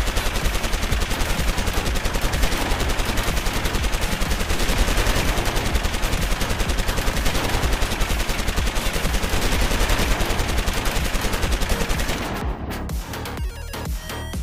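Rapid bursts of electronic gunfire ring out loud and continuous from a 1/18 scale Joytoy toy mech figure, a dense machine-gun rattle that stops abruptly near the end and leaves a brief quieter tail.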